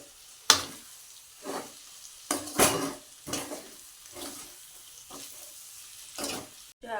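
Stuffed okra frying in a pan as spice masala is tipped in and stirred, giving a string of sharp, close scraping and clattering bursts over a low sizzle.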